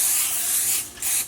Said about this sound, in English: so I'm gonna start with my spray.